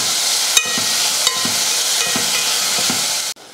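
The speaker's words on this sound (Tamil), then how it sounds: "அடுத்து இதில் தக்காளி சேர்த்துக்கலாம். 3 தக்காளி. இதையும் நல்லா வதக்கிடலாம்." Tomatoes for rasam sauté in hot oil with a loud continuous sizzle close by, broken by several scraping stirs of a spoon against the pan before it cuts off, with no talking.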